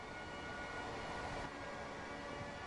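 Train running in Train Sim World 4 on a British intercity route, a steady broadband rumble of the train in motion with a faint tonal hum over it, continuous and unchanging throughout.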